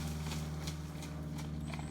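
A horse trots through water in an arena, its hoofbeats a steady rhythmic clip-clop with splashy bursts, close and clear over a low constant hum, no talking.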